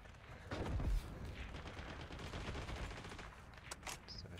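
Gunfire in the shooter game Heroes & Generals, a quiet, dense rattle of distant shots with a louder burst near the start, continuing faintly throughout without speech.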